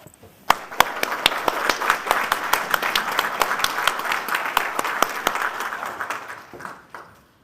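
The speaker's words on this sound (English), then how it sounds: "So I want to ask for an applause for him." An audience applauds at an NC State alumni hall of fame induction ceremony, with sharp distinct claps building into a full, even round in a hall before tapering off near the end.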